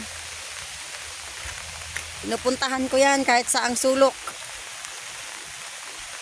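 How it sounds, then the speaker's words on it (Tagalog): Steady rain hisses in the background throughout, while a person speaks briefly over it in the middle. "Grabe ang ulan."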